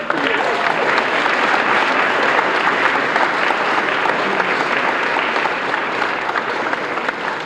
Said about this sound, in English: Can we give Joanna a round of applause